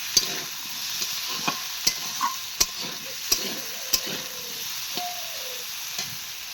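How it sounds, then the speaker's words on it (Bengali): Diced potatoes fry in a pan for khichdi, a soft steady sizzle under a series of sharp, regular clicks of a utensil stirring and scraping, roughly once every half second to a second. "চলো এখন ভালো করে আমি আলুটা ভাজা করে নিই।"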